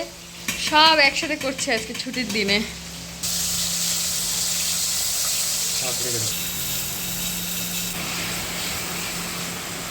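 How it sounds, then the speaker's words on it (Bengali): Fish frying in a pan in a home kitchen. A steady, fairly loud sizzle runs unbroken for most of the stretch, after a few seconds of talking at the start. "এদিকে মাছও ভাজছে"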